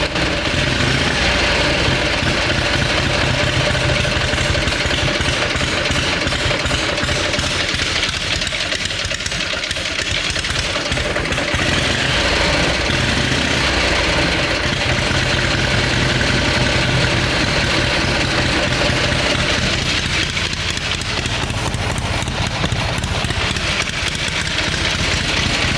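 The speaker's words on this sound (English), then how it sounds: "It starts and runs and idles just like it should." A 1919 Harley-Davidson motorcycle engine idles steadily, a loud, close, continuous chugging rumble with an even, slightly uneven-firing pulse that holds throughout without revving.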